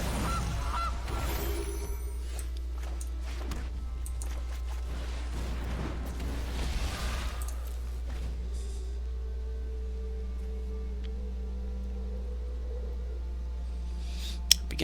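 Gilded Goose card honking in the MTG Arena digital card game, a few goose-like honks near the start over a steady low game-music hum, followed by quieter chimes and tones.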